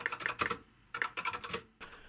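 Someone types on a heavy metal Transform replacement keyboard for the ZX Spectrum, with quick clusters of sharp, close key clacks broken by short pauses.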